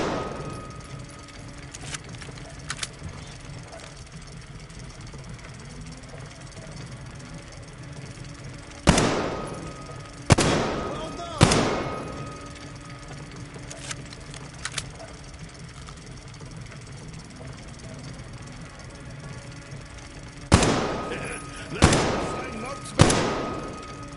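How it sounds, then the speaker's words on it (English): Gunfire in the shooter game Metro Exodus: six sharp, loud shots in two clusters of three, a few seconds apart, over a low steady ambient rumble. "That's what I call real shooting."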